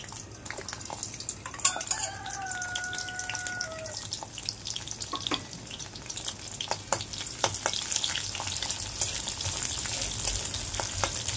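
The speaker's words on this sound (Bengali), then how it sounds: "তেলটা গরম হয়ে গেছে, এখন ওর মধ্যে দিয়ে দেবো কাঁচা লঙ্কা আর রসুনগুলো থেতো করে নিয়েছি" Green chilies and crushed garlic sizzling steadily in hot oil, a bright continuous crackle with occasional spits and scattered clinks of a utensil against the pan, close up and without talk.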